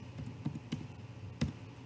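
Keys on a computer keyboard click while a wallet passphrase is typed, with a few sparse, soft taps spread over a short stretch of quiet room tone.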